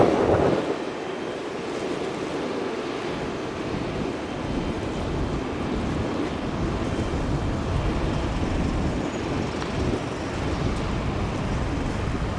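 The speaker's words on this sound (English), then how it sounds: "Sorry if you guys can't hear me from the wind." Wind blowing at Auckland harbor, a constant loud rushing roar with gusty low buffeting against the microphone, mixed with faint water wash, steady for the whole stretch with no talking.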